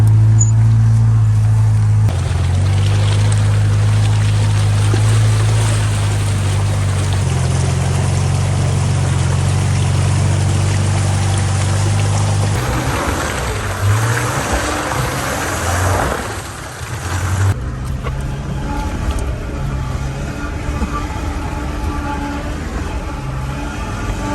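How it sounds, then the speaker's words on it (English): An off-road vehicle grinds through deep floodplain ruts with its wheels in a hole, a loud, steady engine drone with rumbling and splashing that shifts as it struggles through the mud. "Driving through the floodplain, going this way, wheels in the hole."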